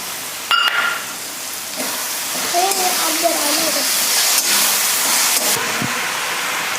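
Hakka noodles sizzle and hiss steadily in a hot pan while sauces are poured in, a loud continuous frying crackle with brief clinks and stirring, a few faint tonal squeaks, no one talking.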